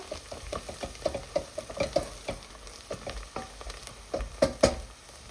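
Onions frying in a pan while being browned and stirred, giving a steady close sizzle broken by regular scraping strokes of the spoon, with no talking.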